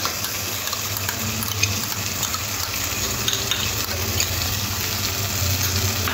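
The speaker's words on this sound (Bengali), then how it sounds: "টক দইটাও মশলার সাথে খুব ভালো করে মিশিয়ে নিতে হবে" Spice paste with whisked sour yogurt stirred in a pan for a pomfret fish curry, a loud continuous sizzle and wet bubbling with scraping strokes throughout, no voices.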